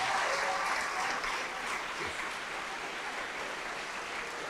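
A church congregation clapping during a service as people come forward, a sustained rainlike patter of many hands, quieter and somewhat distant, steady for several seconds with a slight swell at the start.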